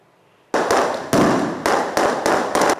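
Fireworks set off for a company's 30th anniversary celebration, a series of sharp, loud bangs after a quiet start, bursting in uneven succession with some closely doubled.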